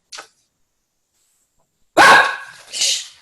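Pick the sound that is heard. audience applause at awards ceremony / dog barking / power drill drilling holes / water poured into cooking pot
dog barking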